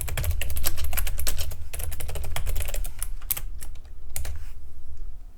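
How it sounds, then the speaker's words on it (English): Fast, steady typing on a computer keyboard, close and crisp, a dense stream of key clicks over a low background hum with a brief pause near the end. "So if we just type anything"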